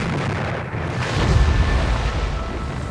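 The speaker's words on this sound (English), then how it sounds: "Now for the explosion." A depth charge explosion from a WWII anti-submarine attack: a loud, rumbling underwater blast that swells and sustains with a deep, churning roar, heard alone.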